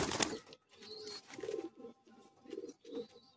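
Pigeons cooing close by in soft, low, rounded repeated calls, several coos in an uneven rhythm, fairly quiet with no talk.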